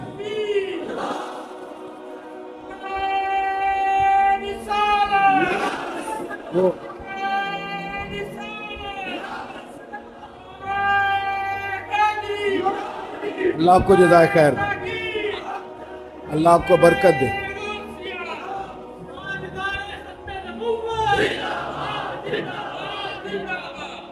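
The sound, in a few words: crowd chanting religious slogans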